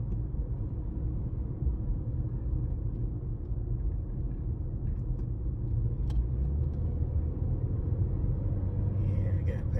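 A car travels along a road with a steady, loud engine and tire rumble throughout, close by and continuous, without any speech over it.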